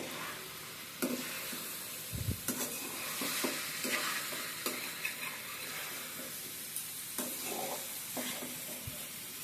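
A spoon stirs pumpkin fry with ground peanut powder in a hot pan, scraping and clinking over a continuous soft sizzle of frying, close and moderately quiet.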